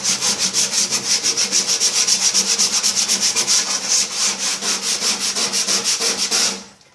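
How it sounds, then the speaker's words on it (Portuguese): The inside of a microwave oven sanded by hand, scratchy abrasive strokes in a fast, even back-and-forth rhythm, close and loud with no voices, stopping abruptly at the end. "E é bem ruim de lixar com a mão, né?"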